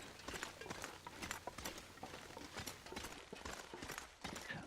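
Footsteps crunch through snow in The Long Dark while wearing crampons, a steady run of heavy, close stomps with a slight metallic bite, alone and unbroken.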